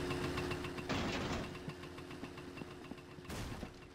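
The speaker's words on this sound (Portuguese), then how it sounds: "Deixar a motinha ligada mesmo." A small motorbike left idling in My Summer Car, a steady mid-pitched engine putter with rapid knocking pulses and a couple of brief louder bursts, close and with no talking.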